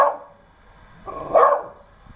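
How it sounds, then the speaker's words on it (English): A studio dog gives a couple of short, close barks, the second louder than the first, with no talking. "You've heard it straight from the dog's mouth."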